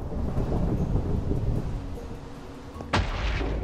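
A Minecraft lightning storm rumbles along as a low, continuous roll of thunder, then a sharp, loud crack strikes near the end.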